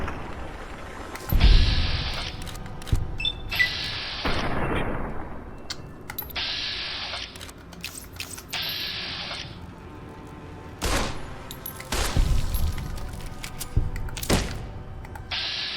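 Gunfire in the video game Fallout New Vegas: several separate sharp gunshots land across the stretch with pauses between them, each followed by a short echoing tail over a low background of game ambience.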